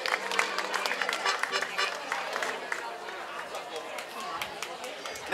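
An audience at a festive dance event in Vallcebre claps steadily in a dense, continuous patter of hands, with chatter mixed in throughout.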